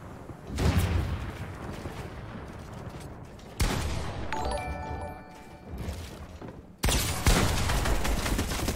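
A player's gun fires in Fortnite, a close, loud stream of rapid shots in three bursts. Each burst opens with a sharp crack and is followed by clattering and impact noise.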